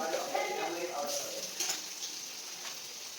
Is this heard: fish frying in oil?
yes